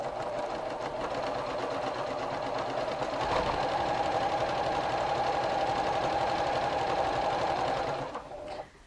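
A sewing machine stitches quilt fabric layers for a jelly roll quilt, running at a fast, even buzzing rhythm close by for about eight seconds before stopping.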